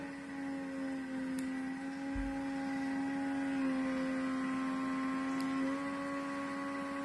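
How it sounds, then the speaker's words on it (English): A vacuum sealer sealing a bag runs a steady mechanical hum with a droning pump tone, close and fairly loud, shifting pitch slightly partway through, with no talking. "when I have liquids in, what I always do is drop it off the edge of the bag, and I vacuum seal this way"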